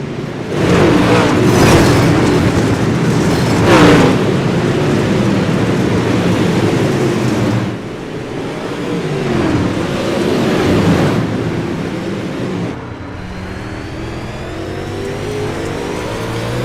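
Modified race cars roar around a dirt track, engines loud and continuous with revving surges and passing swells, the dense mechanical noise filling the whole stretch.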